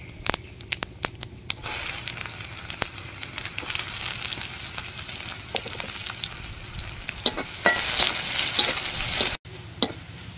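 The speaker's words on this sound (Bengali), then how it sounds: "এবার তেলের মধ্যে 5 ফোড়ন আর পেঁয়াজ কুচি দিয়ে দেব" Panch phoron five-spice and chopped onion frying in oil over a clay stove, a continuous close sizzle that swells louder near the end, with frequent sharp spatula taps and stirring scrapes.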